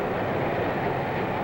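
A diesel-hauled freight train rolling along, a steady, dense rumble of engines and cars heard near and continuous with no pauses, no individual clacks standing out.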